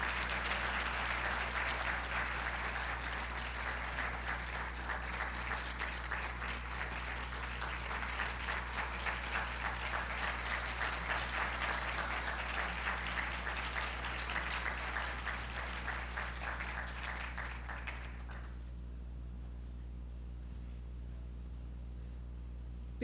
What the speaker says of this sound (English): give Dr. Nettles and his group another round of applause